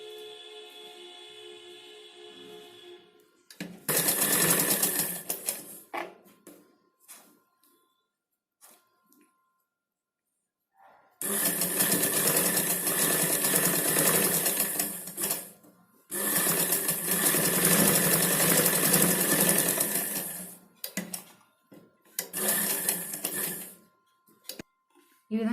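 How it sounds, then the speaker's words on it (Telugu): An electric sewing machine stitches a blouse in several loud, rapid, whirring runs of a few seconds each, separated by pauses, with a voice speaking Telugu at the start and in the gaps. "ఇలా లాగి స్ట్రైట్గా మళ్ళీ స్టిచ్చింగ్ చేసుకోవాలి దీని మీద"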